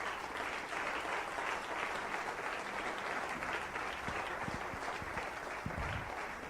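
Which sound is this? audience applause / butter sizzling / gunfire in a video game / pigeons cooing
audience applause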